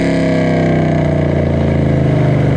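A Chevrolet Camaro, a 6th-gen SS or 5th-gen ZL1, drives with a loud, steady engine drone and a deep rumble that holds even throughout, heard from close up with no talk.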